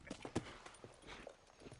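A horse in the Red Dead Redemption video game clip-clops along in a quick, uneven rhythm, the hoofbeats soft and fairly distant, with faint movement noise around them.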